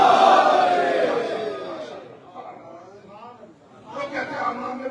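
At a Shia majlis mourning gathering in a hall, a crowd chants religious slogans in reply to a single lead voice's call, the massed voices rising and echoing moderately loud.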